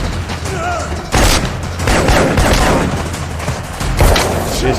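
Rapid AR-15 gunfire from a John Wick Chapter 2 catacomb shootout crackles loudly and nearly continuously in dense bursts, with a brief quieter gap near the start and other mechanical clatter mixed in.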